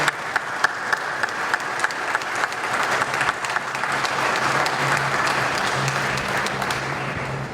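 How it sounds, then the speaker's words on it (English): Audience applause at a career event hosted with the Boston Red Sox, starting with a few scattered claps and swelling into steady, dense clapping from a sizeable crowd. "So let's give the Red Sox a special round of applause."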